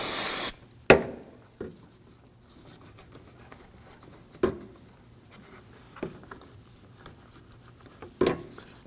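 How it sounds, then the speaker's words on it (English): An aerosol can of brake and parts cleaner sprays around the brake fluid reservoir of a Honda Pilot in an initial short hiss, then scattered sharp clicks and knocks over a quiet background. "we're going to clean the area using some brake and parts cleaner."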